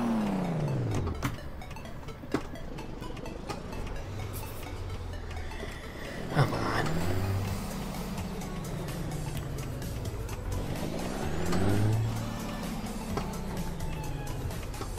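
Truck engine in American Truck Simulator, revving through repeated rising and falling sweeps after a downshift, loud and close, with a brief beep partway through.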